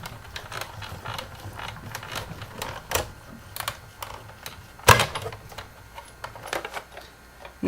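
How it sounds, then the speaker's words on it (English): A Big Shot die-cutting machine rolls a letterpress plate and card through its rollers, giving a run of creaking, clicking mechanical ticks with one sharper snap midway, close and alone. "I'm going to run that through my Big Shot, put that up here, and just wheel it through"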